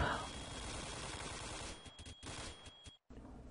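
Rapid bursts of video game gunfire crackle in a dense, continuous barrage, briefly cutting out near the end before resuming.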